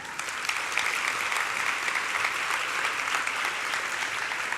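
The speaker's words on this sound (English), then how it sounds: "if that doesn't deserve a round of applause, I don't know what does" Steady, dense applause from a luncheon audience at a leadership event, sustained at an even level throughout with no voices rising above it.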